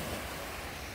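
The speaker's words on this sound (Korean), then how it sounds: "지금 파도 소리 들리죠?" Waves break along Haeundae beach in Busan at night, a dense, constant roar of surf mixed with wind buffeting on the microphone, brief and unbroken.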